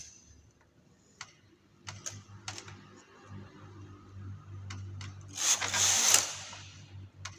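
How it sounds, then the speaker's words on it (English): A knitting machine knits a row with nylon cord: scattered clicks and ticks over a low mechanical hum, then a brighter rushing sweep as the carriage slides across near the end. "you can pick up your nylon cord and knit 1 row with it"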